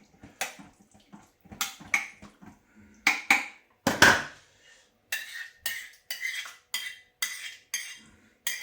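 Utensil stirs and scrapes food in a slow cooker, making a string of sharp clinks and clatters against the pot in irregular bursts, fairly close and clear, with no talking.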